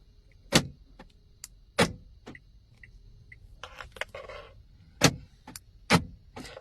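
A car's remote key fob tested on the car, sharp clicks and clunks of locks actuating spaced a second or more apart, with small electronic ticks and a brief rattling burst between them, close and clear.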